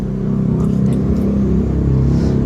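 A motorcycle fitted with a Malaysian-made AHRS aftermarket exhaust revs steadily, giving a continuous deep, loud rumble with slight swells in throttle and no talk.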